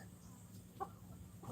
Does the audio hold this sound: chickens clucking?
yes